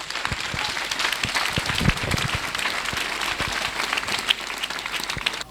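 Church congregation applauding together, a sustained, dense spatter of hand claps at moderate volume, steady throughout without speech.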